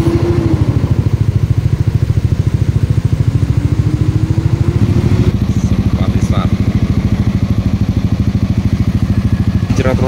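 Motorcycle engine revving hard as a rider accelerates in a race, a loud, steady buzzing drone with a pitch that rises and falls, under an excited commentator's voice.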